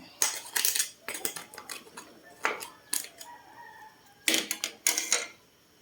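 Garlic and onion stirred in a pot for lechon paksiw made with a pig's head: a series of distinct metal scrapes and clanks in short bursts with pauses, close and fairly clear.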